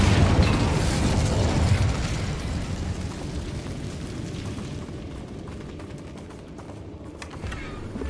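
Incendio fire spell cast in Hogwarts Legacy, a loud whooshing burst of flame and explosive roar that gradually fades into a crackling, dwindling tail.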